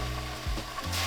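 Tuna sears in a cast iron pan greased with a little cooking spray, a quiet continuous sizzle with a brief scraping dip partway through.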